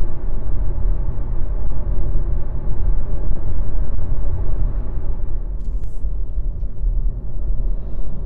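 Steady, loud low road and drive rumble from a VW e-Golf electric car cruising at 100 km/h, continuous throughout with no engine note, just tyre and wind roar.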